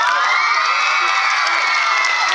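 A crowd of children at Kalivas Camp's food night cheering and shouting together in one dense, loud, unbroken roar that holds steady for the whole moment.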